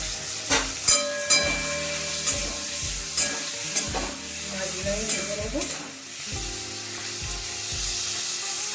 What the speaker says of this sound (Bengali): এবার প্রথমে চিংড়ি মাছগুলোকে ভেজে নিচ্ছে দিয়ে দিচ্ছি সর্ষের তেল